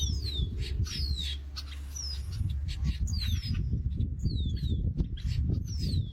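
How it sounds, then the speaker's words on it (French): Shrill, descending red-winged blackbird calls repeat at irregular intervals over a low, rumbling background, with several birds overlapping. "Vous entendez ces cris stridents? Ce sont les carouges à épaulettes."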